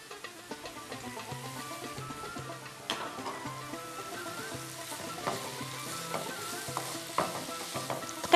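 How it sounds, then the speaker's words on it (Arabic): Garlic fries in a pan for Algerian merguez omelette, crackling steadily and close with repeated stirring scrapes and clinks, no voices. "دقيقه برك الثوم ما نطولوش عليه باسكو كيما على بالكم يتحرق، اذا نقليوه دقيقه"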